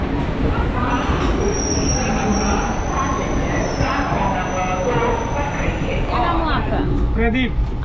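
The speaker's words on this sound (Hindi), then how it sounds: "दोस्तों, हमारी ट्रेन एग्जैक्ट 10:55 को निकल चुकी है।" An Indian express train of ICF coaches pulls away from a station with a continuous rumble of wheels on rails, a long high squeal, and clanking near the end, while voices talk faintly throughout.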